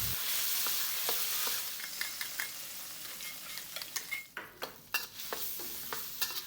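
Garlic and soybean paste sizzle steadily in a hot pan, with repeated clicks and scrapes of a spatula stirring through the mixture.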